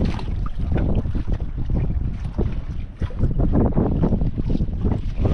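Gusty wind blows hard outdoors near water, a continuous loud rushing noise that surges and eases briefly, with no speech.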